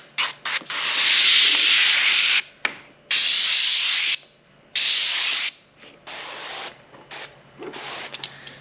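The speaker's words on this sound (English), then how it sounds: "I just use it to spray the glass" A spray bottle mists the window glass of a 2024 VW Atlas during tinting, a series of loud hissing bursts of varying length with short pauses between them, close and clear with no talking.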